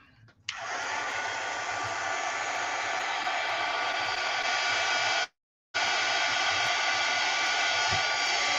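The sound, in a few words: hair dryer drying paint on a mixed media piece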